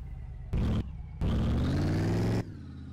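A V8 car engine in the racing game My Garage revs hard in two bursts, the second rising steadily in pitch as the car accelerates, loud and continuous over a steady idle rumble.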